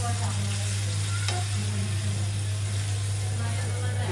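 Green chili and chili powder sautéing with spices in a pan for a Bengali fish and pui shak curry, giving a steady close sizzle and frying hiss over a low constant hum, with occasional stirring scrapes.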